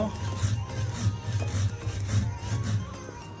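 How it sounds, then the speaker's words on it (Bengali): Black cumin seeds are ground into a paste by hand, with a rhythmic rubbing and scraping of repeated back-and-forth strokes, close and moderately loud, with no voices. "কালি জিরা বেটে নেব"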